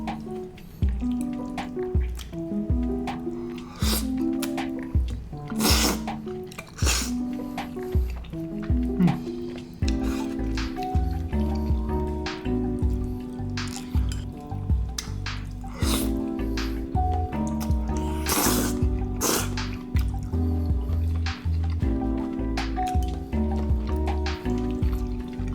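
Jjajangmyeon black bean noodles are eaten mukbang-style, with wet, squishy slurps and sticky chewing sounds repeating close to the mic over a tonal background bed.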